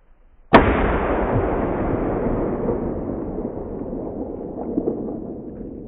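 A single loud Savage Axis .30-06 rifle shot fired at a deer outdoors cracks sharply and close by, then rolls away in a long, slowly fading echo lasting several seconds.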